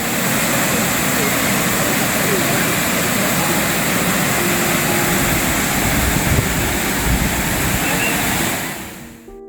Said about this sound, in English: Just listen to the water of the cascade.